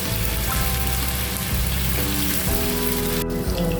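Tofu sizzling loudly in a pan of hot oil, a steady dense crackle and hiss that continues without pause, close and alone.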